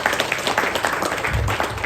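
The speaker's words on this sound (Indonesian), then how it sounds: "Tepuk tangan untuk kita semuanya." Brief, moderately loud applause from an audience at a gathering in Aceh fills just under two seconds of steady clapping.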